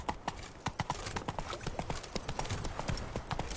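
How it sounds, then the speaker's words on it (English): In The Witcher 3: Blood and Wine on PS4, a horse's hooves clip-clop in a steady, brisk trotting rhythm, close and clear throughout. "Giddy up."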